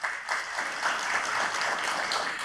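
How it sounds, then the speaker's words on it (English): Audience applause at a District A town hall, a steady wash of clapping hands that swells and holds throughout, dense and fairly close with no voices on top. "So please give a round of applause to Ramona Smith."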